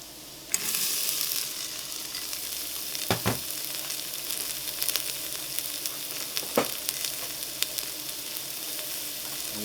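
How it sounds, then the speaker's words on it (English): Garlic and onion saute in oil inside a pressure cooker for a chicken and barley soup, a steady close sizzle and crackle with occasional sharp clunks of a utensil stirring against the pot. "oil in order to saute our aromatics first"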